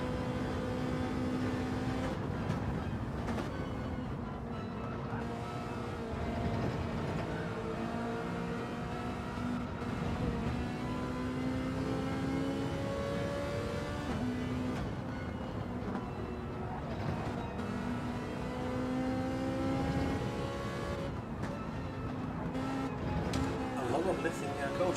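A Ferrari race car in Gran Turismo 7 laps the San Francisco circuit from onboard, its engine droning and revving up and down through gear changes, with commentary running over it throughout.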